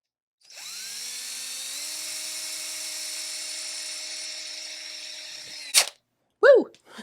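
A small electric motor spins a 5/32 drill bit into a piece of scrap wood, a sustained high whine for about five seconds that stops abruptly, followed by a couple of short clicks and a brief knock.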